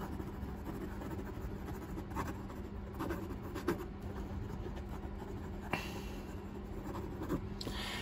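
A Pilot Varsity disposable fountain pen writes on paper, a soft, close, continuous scratchy scribble with small irregular ticks as strokes start and stop, steady and quiet with no talk.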